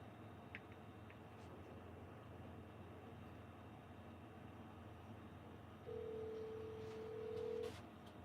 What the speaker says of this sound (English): Here, let me get Ryan on the phone here.